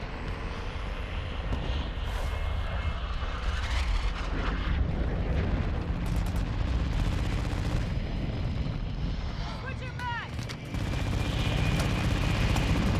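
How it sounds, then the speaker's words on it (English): Heavy airstrike explosions and battlefield rumble in the Call of Duty: Modern Warfare II multiplayer Invasion mode, a continuous loud wash of blasts and booms lasting throughout, with brief game tones and effects layered over it. "Friendly airstrike on the way."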